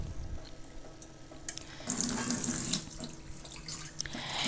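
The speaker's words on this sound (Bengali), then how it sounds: "আর এই সকাল সকাল আমি এখন মাছগুলো ধুয়ে নিচ্ছি" Running tap water splashing over rui fish being washed in a kitchen sink, a steady close hiss and patter that grows fuller midway as the fish is handled under the stream.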